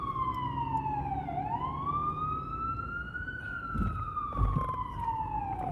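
A wailing emergency vehicle siren sweeps up and down in long glides, loud and close, passing along a street with a few thumps and knocks at the end.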